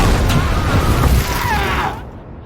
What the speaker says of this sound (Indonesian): kaleng itu meledak